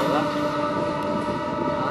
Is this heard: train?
yes